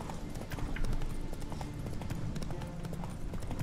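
Horse hooves clip-clop at a steady pace in The Witcher 3, a continuous train of close, sharp hoof strikes over a dense game soundscape with no voice in it.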